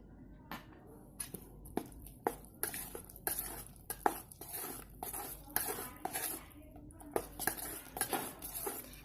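A spoon stirs vanilla-flavoured cake batter in a bowl for a homemade oven-free cake, giving a steady run of close, light clinks and scrapes against the bowl's side with short pauses between strokes.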